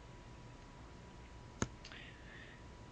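A single crisp mouse click in monitoring software, sharp and isolated against a quiet background hiss, followed by a faint short tone.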